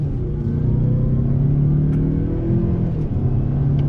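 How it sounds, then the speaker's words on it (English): A 2020 Mazda 6 sedan pulls onto a highway under throttle, its engine a steady, loud low drone with a broad road rumble that holds through the whole stretch, with no talking. "merging onto the highway here, on throttle"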